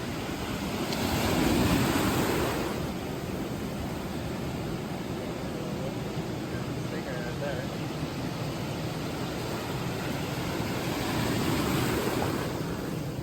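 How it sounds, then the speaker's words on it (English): Ocean waves on a California beach roll in as a steady, wind-blown roar of surf, with louder swells near the start and end. "Don't those waves sound incredible?"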